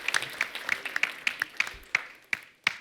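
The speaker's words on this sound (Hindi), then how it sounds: "अक्षय पाजी के लिए खुल के तालियां।" Audience applause for actor Akshay Kumar on a comedy show stage: a thin scatter of bright handclaps, fairly quiet and slightly distant, thinning out into a few isolated claps toward the end.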